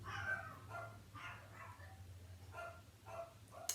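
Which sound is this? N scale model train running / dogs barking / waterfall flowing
dogs barking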